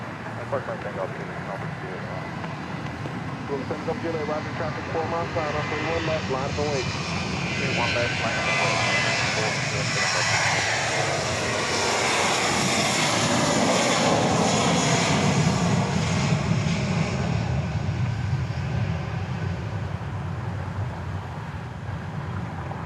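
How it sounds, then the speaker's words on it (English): A Boeing 737-700 at Dallas Love Field throttles up on the runway, its jet engines building into a broad, loud roar that swells and holds over twenty seconds, with talk heard over it. "It's a 737-700 going to Colorado Springs."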